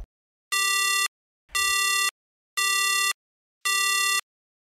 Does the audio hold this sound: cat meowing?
no